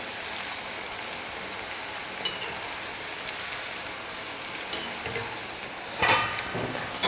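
Cauliflower florets for gobi manchurian frying on full flame, a steady dense sizzle of hot oil running throughout, with a brief louder burst of crackling near the end.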